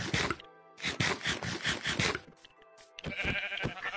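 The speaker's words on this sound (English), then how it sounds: "Bro, I found two sheep, white sheep." Several sheep bleats from white sheep in the Minecraft video game, repeated in a quick uneven series with short pauses, fairly loud and close, with no talking.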